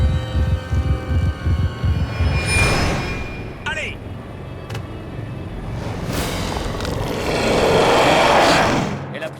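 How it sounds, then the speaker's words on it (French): A Canadian airline's airplane flying, heard as a broad engine roar that builds slowly and swells toward the end, with brief sharp noises and some low rumble early on. "Un avion d'une compagnie canadienne."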